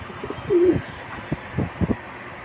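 A pigeon with a pure-white, unringed body, ill and being nursed, coos close by: a drawn-out coo followed by several shorter, softer coo pulses over a quiet background.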